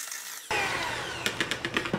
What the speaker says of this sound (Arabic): اول شيء راح اعمله اللي هو خفق بياض البيض